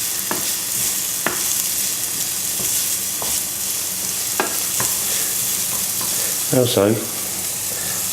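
Finely chopped onions sizzle steadily in hot oil and are stirred with a few scraping clacks, while a brief spoken word cuts in near the end.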